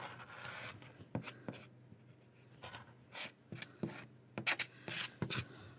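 A blade trims excess fabric from a sewn bauble cushion in quiet, scratchy strokes, with short bursts of rasping cuts and soft rubbing between them, close up and faint.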